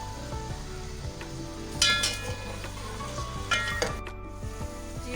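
Finely chopped large onions drop into hot oil in a pan and sizzle steadily, with occasional stirring clinks and scrapes of a utensil; no voices.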